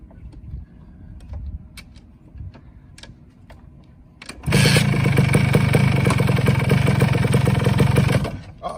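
A Honda 250R ATC two-stroke three-wheeler ticks over unevenly at first, then its engine jumps into a loud, sustained rev held for several seconds before dropping off, close by and without talk.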